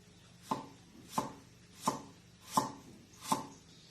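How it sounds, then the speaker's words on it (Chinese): A knife slices fresh ginger on a cutting board, five crisp evenly spaced chops close by with quiet pauses between them. "然后呢，再切一点这个生姜片"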